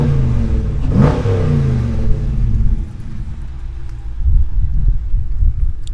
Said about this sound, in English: So standard exhaust, but nice and loud anyway.